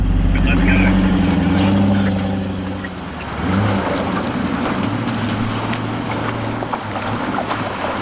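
A 4WD vehicle's engine labours loudly while towing another car through a flooded river, the drone easing and then building again with splashing water, near and continuous, with a voice heard over it.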